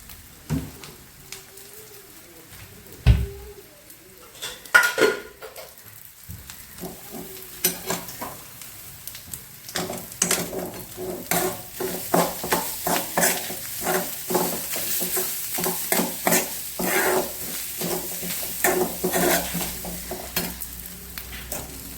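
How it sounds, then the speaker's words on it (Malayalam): Grated coconut frying in coconut oil, stirred often, crackles and sizzles close up while a utensil scrapes and scratches the pan in quick, irregular strokes that grow busier over time. "കുറച്ച് വെളിച്ചെണ്ണ ഒഴിച്ചിട്ട് നമുക്ക് നല്ല രീതിയിൽ ഇതൊന്ന് വറുത്തെടുക്കാം"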